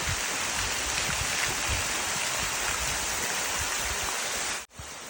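A waterfall at Umphang in Tak province roars in a steady, dense rush close by, with a brief dropout near the end.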